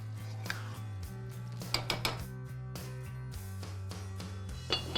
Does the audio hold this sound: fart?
no